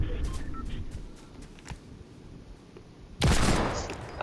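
Gunfire in the video game Fortnite bursts in loud and dense near the end, following a stretch of quieter game ambience with scattered faint clicks and shots.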